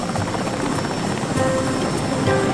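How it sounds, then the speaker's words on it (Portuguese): Helicopter taking off from Santa Ana, a dense, steady rotor and turbine roar with rhythmic blade chop, loud and close throughout with no talk. "Pouco depois das 9 horas, o helicóptero decola de Santa Ana."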